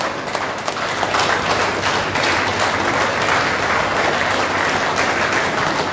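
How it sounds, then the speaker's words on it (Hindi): An audience applauds at a workers' conference in India to welcome a guest, with dense, sustained clapping throughout and a faint voice beneath it. "सभी लोग तालियों से स्वागत करें।"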